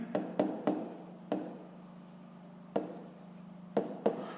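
A pen scratches numbers by hand on paper during a fifth-grade math exercise, each digit a short, close scratch. They come in an uneven series of quick strokes with brief pauses between them. The room is quiet and no one talks.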